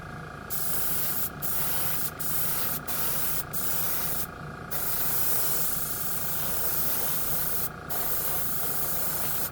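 A budget airbrush with a real wood handle sprays primer onto a spoon, giving a steady close hiss that sputters in repeated short bursts, with brief gaps where the flow cuts out.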